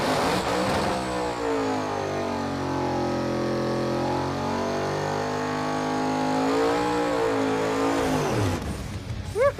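A drag race car named Blasphemi, fitted with coil-on-plug ignition, a dry sump, a different clutch and transmission and new rear tires, launches and makes a pass down the strip, its engine roaring loudly with steady shifting pitch sweeps.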